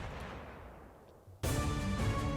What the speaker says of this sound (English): the sound of a cannon echoed far and wide